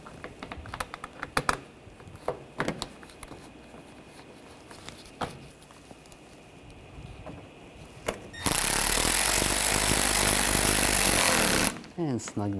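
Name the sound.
power tool driving screws into car panel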